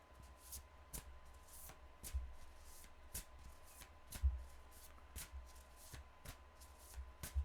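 Oracle cards being shuffled by hand, a series of crisp riffling snaps and soft card slides in an irregular rhythm, close and quiet with no talking.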